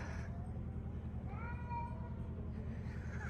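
A cat gives a faint meow among the ruins of Pompeii, Italy, a short rising-and-falling call over a constant low background hum.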